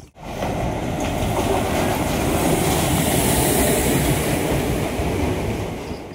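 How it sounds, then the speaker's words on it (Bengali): A Lalgola to Sealdah MEMU passenger train rolls in at a station platform, a loud, continuous rumble of wheels and carriages with rhythmic rail clatter. "আমাদের ট্রেন আসবে ঠিক এই নম্বর প্ল্যাটফর্মে এবং ট্রেন চলে আসছে"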